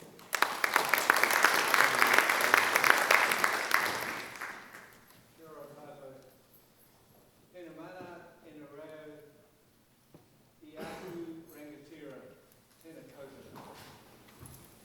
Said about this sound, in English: Please give a warm round of applause for Barry.